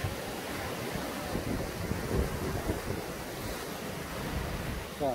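Ocean waves wash onto the rocky shore at Jukdo Park in Songjeong, a continuous loud roar of surf with steady rushing texture and no speech.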